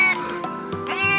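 Cat stuck between the slats of a wooden chair, meowing in a couple of short, close, plaintive cries.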